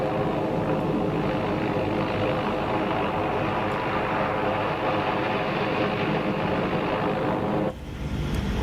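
Exterior propeller drone of a Black Square Baron or Bonanza in Microsoft Flight Simulator 2024 (MSFS2024), a loud, steady buzzing roar that holds throughout and then drops off sharply near the end.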